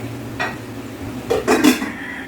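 Sliced pork innards are stirred in a cooking pot, with a few short metallic scrapes and clanks of a utensil against the pot, the loudest pair close together near the end.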